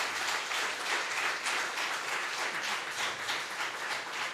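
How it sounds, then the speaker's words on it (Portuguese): Loud, dense applause from a church congregation at a Sunday evening service, continuous rhythmic clapping filling the whole stretch with no talk over it. "Vamos aplaudir o Senhor pela vida dela."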